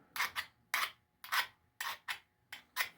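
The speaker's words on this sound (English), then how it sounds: "I've been sharpening them off and on with my file." A hand file rasps across a wood lathe turning tool in short, quick strokes, mostly in pairs, close and crisp with quiet gaps between them.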